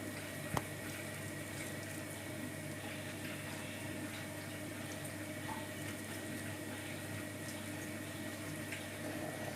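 A steady, continuous low bubbling hiss of beef curry simmering in a pot on a stove, unchanging throughout, with a faint hum in the background.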